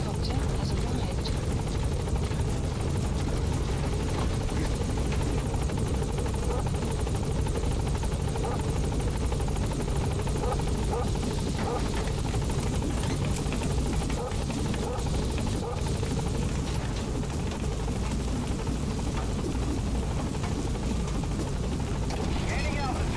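Support helicopter in Metal Gear Solid V: The Phantom Pain hovers and climbs, a loud, unbroken rotor roar filling the whole stretch with little variation.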